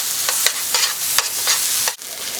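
A spoon scrapes and stirs a beef mixture with tomato paste in a pan over medium-high heat, several crisp scraping strokes at an uneven pace over a steady low sizzle, close and clear, without speech.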